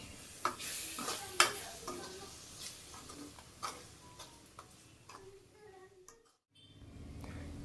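Spice masala for drumstick thokku sautés in oil, with a gentle sizzle broken by sharp clicks and scrapes of a spatula against the pan, irregular and close, fading to near silence near the end.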